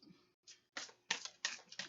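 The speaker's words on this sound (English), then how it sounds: "I don't know why I keep shuffling this." A deck of tarot cards is shuffled in short, close bursts of crisp riffling and tapping, about five quick clicks separated by brief pauses.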